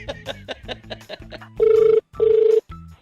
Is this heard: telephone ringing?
yes